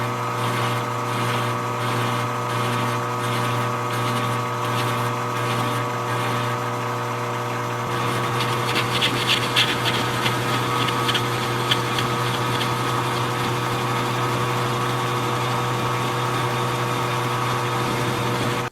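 A lathe cutting hard steel at a slow 70 RPM on a Case 170B excavator hydraulic part gives a steady, loud mechanical drone with strong tonal hum. Grinding cutting noise builds partway through, with no talk.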